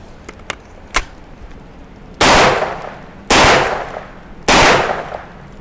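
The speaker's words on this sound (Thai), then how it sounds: "แล้วยิงกลางฝนด้วย" Three loud, sharp gunshots from a gun coated in protective paint, fired outdoors in the rain, each with a long decaying tail, preceded by a few faint clicks.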